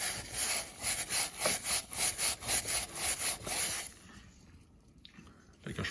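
Rhythmic back-and-forth scrubbing to remove rust from the bearing seat on a manual transmission, about a dozen close, even strokes for four seconds before the rubbing stops and things fall quiet.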